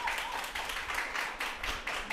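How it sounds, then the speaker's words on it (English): Audience applause for debate teams after a hotly contested match, a steady wash of clapping at moderate level with slight rhythmic swells, no talk over it. "give our teams another round of applause"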